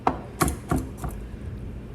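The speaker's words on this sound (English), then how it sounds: "I'm going to crush them more so I can get that rough chop first" A knife roughly chopping peeled, crushed food on a cutting board, four sharp knocks spaced about a third of a second apart, the last one softer, close and clear with no talk.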